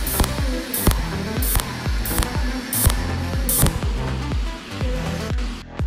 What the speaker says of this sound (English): Let's take a closer look at the welding effect of the cold welder.